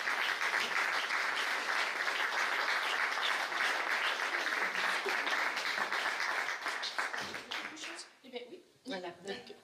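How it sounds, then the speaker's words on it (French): Audience applause at a public tribune event in Castres, dense and sustained for several seconds, then thinning into scattered claps as voices begin speaking near the end. "je voudrais qu'on l'applaudisse parce qu'elle est"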